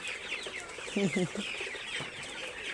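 Sonali chickens on a poultry farm give a few short, close clucks over a low background hum, with a brief cluster of louder clucking near the middle.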